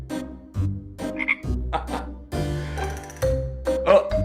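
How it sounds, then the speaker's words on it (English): Cartoon frog croaking inside a witch's cauldron animation, a run of loud, repeated croaks with a bubbling, musical backdrop, filling the whole moment without talk. "Got a frog in here."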